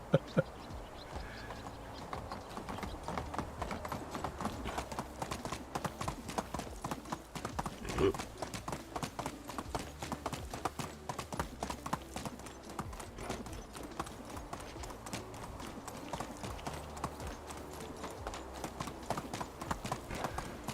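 Horse hooves clip-clop steadily in Medieval Dynasty, a rapid continuous patter of close hoofbeats running the whole stretch, with faint other game sounds in the background.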